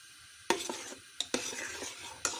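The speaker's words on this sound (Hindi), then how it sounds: "इसके साथ सारा मक्खन है मेल्ट होना शुरू हो गया" Butter melts in a pot for making ghee while a spoon stirs it. A soft sizzle runs underneath a few distinct scraping clinks, and the sound is close and fairly quiet with no voices.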